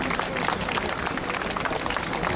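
Applause at a London rally commemorating Poland's Cursed Soldiers, where the crowd holds Polish flags: a steady, dense wash of clapping from many hands, unbroken for the whole moment.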